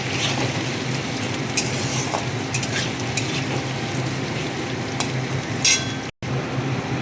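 Chopped onion sizzles in a wok as a spatula stirs it, sending scraping and light clinking strokes at irregular moments over a constant frying hiss, with one very short dropout near the end.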